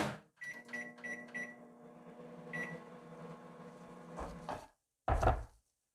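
A microwave oven runs while heating rice cake dough: a steady low hum with a few short beeps at the start, then a door clunk and a closing thud near the end, close and moderately quiet.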